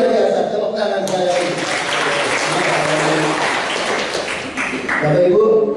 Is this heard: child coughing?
no